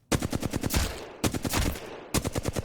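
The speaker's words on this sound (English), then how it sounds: "Or what I'll do is I'll shoot a few bullets." A gun in Apex Legends fires three short bursts of rapid automatic shots, each a tight string of sharp cracks, loud and close with brief gaps between bursts.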